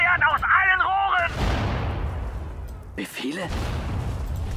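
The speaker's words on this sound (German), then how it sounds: "Feuern aus allen Rohren!" Artillery cannons firing in the World War II strategy game Sudden Strike 4 during the Battle of Kursk; two heavy booms with rumbling tails follow a short burst of voiced game chatter.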